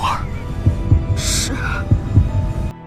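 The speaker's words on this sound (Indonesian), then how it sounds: "Dan tiba-tiba detak jantung Chongxi pun berdetak kencang yang membuatnya merasakan kesakitan" A fast heartbeat sound effect from a fantasy film thumps in paired low beats, a steady throbbing rhythm under a dramatic hum, with a brief bright swell partway through.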